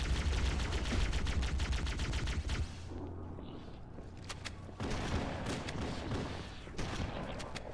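Rapid enemy gunfire from the video game Halo: Combat Evolved, dense overlapping bursts that crackle continuously, thin out briefly in the middle, then return loud and sustained with no talking.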